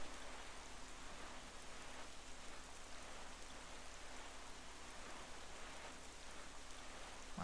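Steady rain in The Legend of Zelda: The Wind Waker HD, a soft, even patter and hiss that runs unbroken from start to finish.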